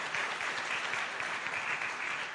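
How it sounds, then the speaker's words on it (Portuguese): An audience in a Brazilian institutional presentation applauds the mayor of Nortelândia seated in the front row, a dense, even wash of clapping from many hands, fairly faint and continuous. "Pode aplaudir porque merece."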